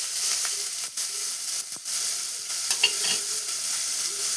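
A spoon stirs black-eyed peas cooking in a pan on the stove, soft scraping over a steady sizzling hiss, with a couple of sharper clinks.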